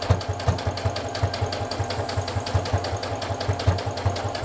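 A sewing machine stitches a fabric bra pad, finishing a seam with an overlap and back stitch: a steady, rapid mechanical chatter of needle strokes with a low motor hum, close and continuous.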